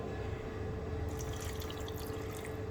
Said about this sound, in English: To this I am going to add in half a glass of water.